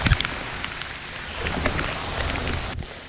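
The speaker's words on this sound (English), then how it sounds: "Okay, so we're stuck in the middle of a rainstorm." Rainstorm on a creek during kayak fishing, a constant hiss of rain falling on water and surfaces with scattered sharper drop impacts and a low rumble underneath.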